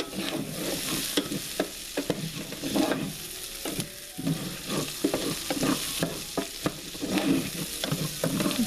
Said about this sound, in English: get this butter melted down and the sausage cooked up really well